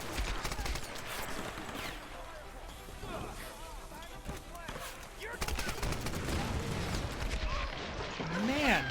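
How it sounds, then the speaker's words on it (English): Sustained rifle fire in Tomb Raider rattles on for several seconds in dense, rapid bursts, mixed with other game effects while someone talks over it. "Rifle is not very accurate with sustained fire."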